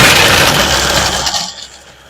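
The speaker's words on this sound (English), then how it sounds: "And I put the motor on and blend." A blender motor pulverizes sweet berries for a light mousse, a loud, dense whir that holds steady for over a second and then winds down and fades.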